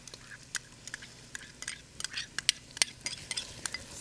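Chopped garlic is stirred around a hot cooking pan for chicken paprikash, giving close, irregular scraping and tapping strokes over a faint sizzle, with no talking.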